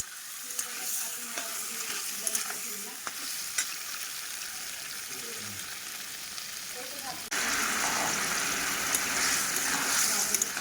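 Meat sizzles in a pan of fried onion with a ground ginger, cumin and chilli masala. A moderate crackling fry with occasional stirring clicks suddenly swells into a louder, fuller hiss partway through.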